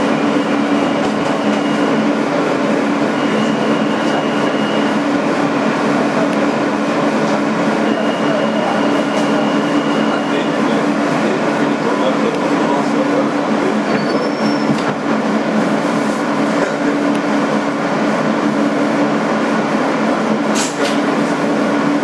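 A 2008 Kawasaki R-160B N local subway train on the BMT Sea Beach line, a loud continuous rumble of a car in motion with wheel squeals and faint rhythmic clatter, heard from inside throughout.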